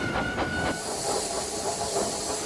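A steam engine hisses loudly and continuously, with a few rhythmic chuffing puffs at the start as it pulls a small goods train, close and without talking.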